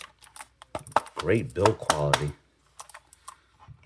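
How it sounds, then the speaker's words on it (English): Keys click in quick bursts on a Hexgears A1 low profile wireless mechanical keyboard with 63 keys, while someone speaks briefly over the typing. "Get this nice keyboard, the A1 mechanical"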